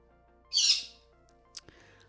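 A pet bird gives one loud, harsh squawk up close, followed by a couple of faint clicks and quiet rustling.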